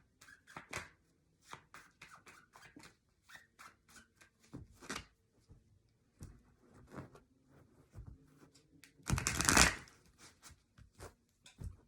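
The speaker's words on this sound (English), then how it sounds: "I'm going to proceed and shuffle the cards" Tarot cards being shuffled in several quick riffling bursts with pauses between, close by, ending in one louder, longer riffle near the end.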